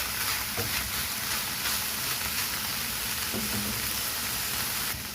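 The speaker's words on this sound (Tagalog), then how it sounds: "Continue tayo sa pag-toast ng ating chicken dito." Shredded chicken breast toasting in a pan, a steady close sizzle and crackle hissing continuously with occasional stirring scrapes.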